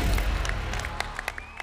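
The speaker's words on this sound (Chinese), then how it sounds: "把掌声送给我们所有的助跳" Applause and scattered cheers from a studio audience at a street dance competition show, honouring the backup dancers, strong at first then thinning into sparse claps and whoops.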